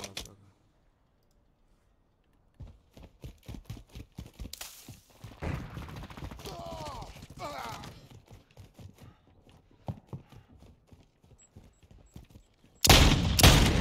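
Modern Warfare 2 free-for-all match with rapid SMG gunfire in short bursts and single shots, a louder sustained blast at the end, mixed with game effects and a player talking over the action.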